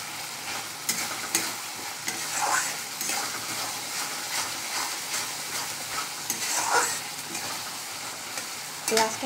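Onions fry in a pan with white mustard seeds, crackling and sizzling steadily up close, with occasional stirring scrapes breaking through the constant hiss.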